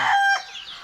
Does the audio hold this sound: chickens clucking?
yes